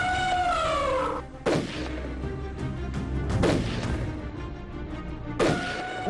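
Gunshots are fired at elephants in Tanzania's Tarangire reserve. Three sharp, loud cracks ring out roughly two seconds apart over a steady background with some tonal sound.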